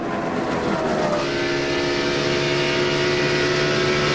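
A pack of NASCAR stock cars roars steadily at the 2002 DaimlerChrysler 400, a loud continuous engine drone layered with whining tones that shift in pitch as cars pass.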